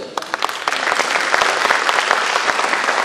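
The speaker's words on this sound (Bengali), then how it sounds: "এই নাটকে নেপথ্যে যারা কাজ করেছেন তাদের জন্য আপনার কাছে একটু করতালি চাই।" An audience at a theatre festival applauds the backstage crew of a play, dense continuous clapping from a full hall, steady and fairly loud throughout.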